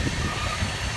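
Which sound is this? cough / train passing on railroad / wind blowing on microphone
train passing on railroad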